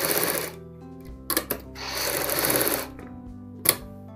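A sewing machine stitches a ladies' coat collar in short bursts with brief pauses between runs, plus a couple of sharp clicks from the machine, close up and loud.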